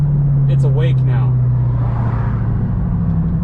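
A car accelerating after a differential swap to 3.77 gearing, a steady, loud engine drone held throughout with a person talking over it early on.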